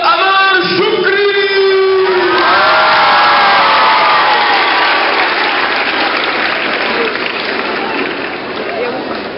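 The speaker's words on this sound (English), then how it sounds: "make some noise and give a nice warm welcome for our good brother, Amaar AlShukry." A convention entertainment audience bursts into loud cheering and sustained applause for a performer, with whoops and shouts early on, and the clapping continuing steadily before slowly easing off.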